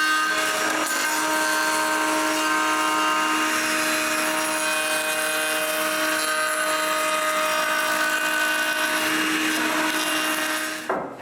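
A power tool, likely a router, cuts rabbets into the bottoms of wooden serving trays, a steady loud whine with a sustained high tonal pitch running almost unbroken, then stopping abruptly near the end.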